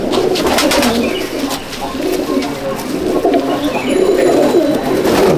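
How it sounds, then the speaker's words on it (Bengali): A male Golden pigeon coos close by in a repeated, throaty rolling rhythm that runs steadily for several seconds over a busy background. "নর পায়রা। এটা নর পায়রা শখ করুন।"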